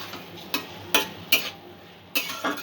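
A spoon scraping and knocking in a pan of tomato chutney being stirred, several distinct clinks spaced irregularly over a quiet background.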